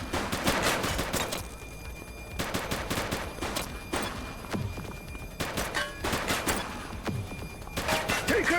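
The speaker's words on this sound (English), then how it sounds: "Shots fired!" Gunfire in a police shootout in the video game The Precinct: close, sharp bursts of rapid shots fired in several separate volleys across the scene, with brief quieter gaps between them.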